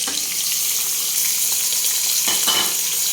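Onions frying in a pan alongside whole spices such as cardamom, black peppercorns and cloves, a steady close hiss of sizzling with a couple of brief stirring scrapes near the end.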